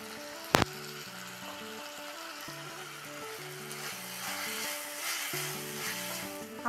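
Onion and ginger-garlic paste sizzle steadily in hot frying oil for an egg biryani, a loud, continuous crackling hiss after a brief sharp clatter at the start, with faint background tones and no talking.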